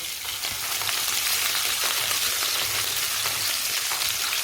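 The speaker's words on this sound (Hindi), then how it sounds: "मिर्च को हम सौते होने तक भूनेंगे" Long-cut green chillies fry in hot oil for paneer bhurji, giving a dense, steady sizzle that stays even and close throughout.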